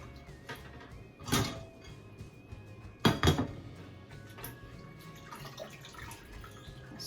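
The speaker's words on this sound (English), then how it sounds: "I'm gonna rinse it in fresh cold water." Salt fish being rinsed in fresh cold water for a Jamaican rundown, with running water and splashing plus a few louder clatters of dishes or a pan up close.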